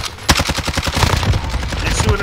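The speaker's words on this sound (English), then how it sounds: "They're shooting at us from everywhere, bro." Rapid automatic gunfire from a PPSh-41 submachine gun in the Call of Duty Warzone video game, a dense burst of loud, closely spaced shots running throughout, with voices faintly underneath.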